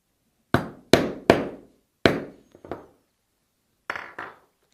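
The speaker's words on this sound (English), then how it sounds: "we're going to just hammer that down" Hammer blows on a piece of split navy leather being flattened for a briefcase lock fitting: six or seven sharp, close taps in uneven groups, each decaying quickly, with short silences between and no talk.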